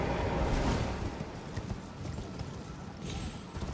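A horse gallops in the video game Elden Ring, its hooves pounding in a fast, steady rhythm under a rushing wind-like background.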